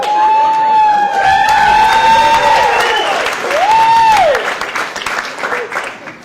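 Stand-up comedy club crowd in Gotham, New York City claps and cheers loudly, with rising whoops and yells over the applause before it tapers into scattered claps.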